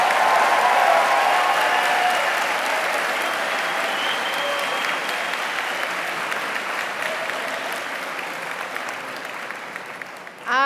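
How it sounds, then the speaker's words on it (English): Sustained applause from a large crowd for arts and sciences graduates at a WPI undergraduate commencement ceremony, a dense, steady wash of clapping that fades slightly over ten seconds before a sudden swell at the end. "How about a big round of applause for our arts and sciences graduates?"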